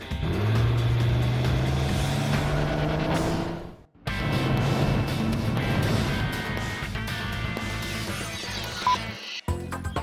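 A car engine revs loudly and accelerates away, its tone rising steadily, then cuts off abruptly before more loud engine and road noise follows.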